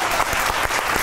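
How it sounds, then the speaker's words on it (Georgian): A studio audience at a Georgian comedy show claps in a dense, lively burst of applause that holds steady throughout. "როგორ გამოიყურება თქვენი აპლოდისმენტები?"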